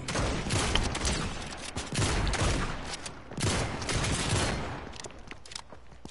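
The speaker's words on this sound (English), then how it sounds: "I wonder if I shoot this dude, would it count for my 100 shotgun rounds?" Shotgun blasts ring out in a multiplayer shooter, arriving as loud rolling bursts in several clustered waves over a few seconds.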